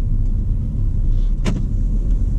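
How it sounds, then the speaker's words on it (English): A Ford Focus ST with a manual clutch drives along, giving a steady, loud, low engine rumble from inside the cabin, with a brief higher whoosh about midway. "I'm really excited to be driving this thing"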